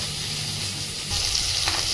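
Fish sizzling and frying in hot mustard oil in a pan, a steady close crackling hiss that brightens and grows a little louder partway through, with no talking.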